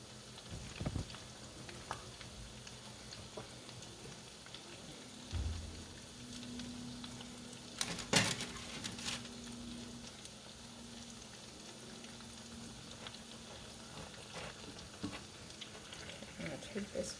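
Chickpea and black bean patties fry in a pan on a stovetop burner, giving a steady low sizzle throughout with a brief louder clatter near the middle.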